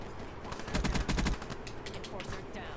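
Rapid automatic gunfire in the shooter game Call of Duty Black Ops III, a tight burst of close shots followed by fainter scattered pops, with no talk over it.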